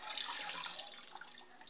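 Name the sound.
washing a wooden chopping board under running water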